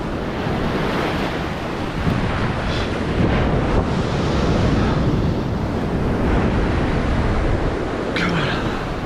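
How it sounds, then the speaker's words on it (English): Big surf breaks and washes along an East Coast fishing beach, a loud continuous roar with surging swells, heavy wind buffeting the microphone throughout. "it's some big waves out there"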